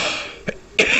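A single adult coughs twice in quick succession, a short weak cough followed by a louder, harsher one, close and clear over a quiet background.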